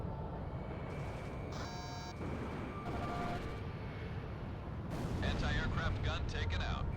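Ace Combat 6 jet combat as an anti-aircraft gun is destroyed: rumbling explosions and gunfire under steady engine drone, with electronic warning tones and radio voices talking.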